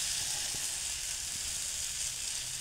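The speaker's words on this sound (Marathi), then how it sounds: "आता डोसा टाकल्यानंतर तुम्ही फ्लेम मीडियमवरती ठेवून छान भाजून घ्यायचा" Dosa batter sizzles on a hot pan over a medium flame, a steady soft hiss with faint crackle running evenly throughout.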